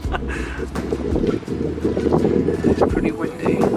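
Strong stormy wind roars and buffets the microphone outdoors beside a vintage coffee and cake van, a continuous low rumble with gusty surges and indistinct voices underneath.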